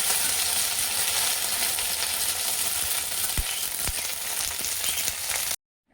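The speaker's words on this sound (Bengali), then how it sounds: "এমনি একদম ফুল আঁচে এটাকে তেলে ভেজে নেব" Food fries in oil over a full high flame with a loud, even sizzle and a few soft stirring knocks, cutting off abruptly at the end.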